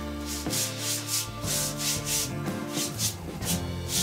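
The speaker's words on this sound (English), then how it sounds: "it gives me the opportunity to sand here and there when there's too many little fibers coming up" Sanding a wooden classic dining table during assembly, a steady rhythmic rubbing that swells and fades in repeated strokes about twice per second, close and alone with no talk.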